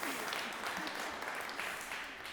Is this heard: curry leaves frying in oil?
no